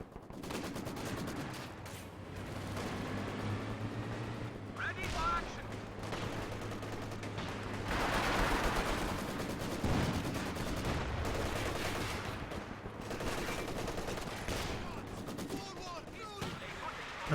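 Gunfire in the strategy video game Company of Heroes 2, including a Maxim machine gun, set in a battle. Bursts of shooting and heavier impacts come and go over a long stretch, under steady commentary.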